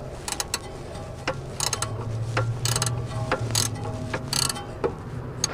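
Ratchet wrench working an 18 mm bottom coilover bolt on a front-wheel-drive B5/B5.5 Volkswagen Passat, a steady run of close, sharp clicking pawl strokes in bursts over several seconds, with no talk.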